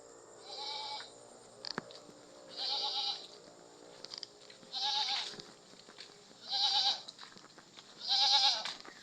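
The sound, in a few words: pet goat bleating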